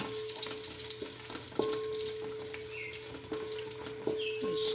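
Browned onion roasts in a pan for mutton masala, a soft continuous frying hiss with repeated metal spoon scrapes and taps at intervals, fairly quiet and close, with no talking.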